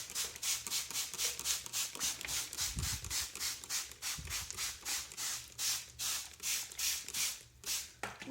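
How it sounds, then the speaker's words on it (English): A hand spray bottle misting cocoa plant leaves to wash off gnats, about a dozen quick rhythmic bursts of spray close up, steady and evenly spaced. "spray down the leaves."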